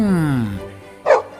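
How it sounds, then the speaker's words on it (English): A dog gives a single short, loud bark near the end, following a spoken voice at the start, in a children's lesson on farm animals. "It's a dog."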